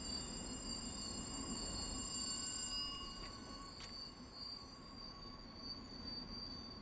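Wheels on an LIRR M3 commuter train squeal on the rails in Train Simulator, giving a sustained high-pitched whine over a low rolling rumble. The sound stays fairly faint and steady and shows one brief sharp screech partway through.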